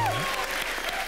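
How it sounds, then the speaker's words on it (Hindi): Applause from a studio audience at a televised comedy show, a brief burst of close, dense clapping with a faint voice at the start. "जोरदार तालियां हो जाए."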